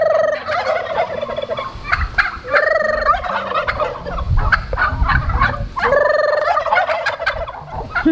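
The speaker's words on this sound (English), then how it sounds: "So our turkeys, they're gonna be really loud while I sit here." Farmyard turkeys gobble loudly and close by in repeated bursts, several calls overlapping in quick succession with short gaps between them.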